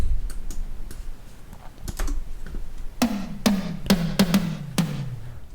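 Sharp, punchy 80s house tom samples with a retro electronic tone, a few light taps followed by a run of booming hits that pitch downward in a fill.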